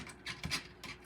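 Quiet, uneven scratching and rubbing in short bursts, like claws raking a wooden surface, with no voices.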